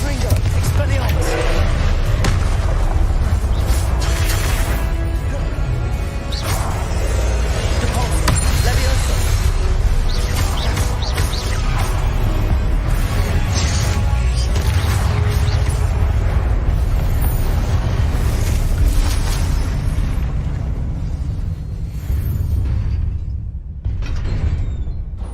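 Spell blasts and explosions in the video game Hogwarts Legacy: a continuous loud wall of booming impacts, crackling bursts and rumbling effects over a heavy musical bed, with spoken voices throughout, easing slightly near the end.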